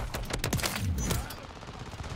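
Battle rifle gunfire in Call of Duty: Modern Warfare, a quick cluster of sharp close shots in the first second, then fading to game ambience.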